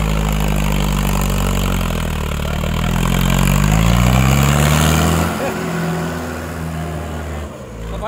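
A tractor engine runs on a farm during a demo of a nine-tine cultivator, a loud, steady low rumble that rises slightly and then fades, while people talk over it.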